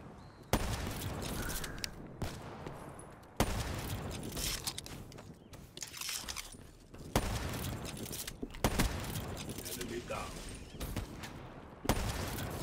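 Gunfire in the shooter game Black Ops 3, with sharp shots and bursts cracking out at irregular intervals over a constant dense background of game noise, fairly loud and close.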